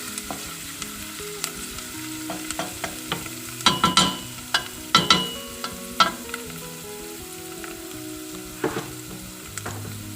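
Sliced garlic, chili and parsley sizzle in a frying pan, a soft continuous fry broken by scattered crackles and the clicks of stirring.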